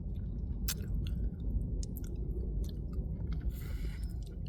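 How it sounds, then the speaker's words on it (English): Close, steady chewing on a wooden toothpick, with soft clicks and crunches scattered over a constant low background rumble. "trying to chew on my toothpick."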